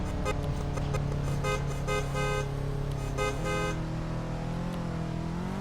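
Car horn honking in the Roblox driving game Drive it, heard as repeated short bursts of bright stacked tones over a steady engine drone, loud and close with no talk.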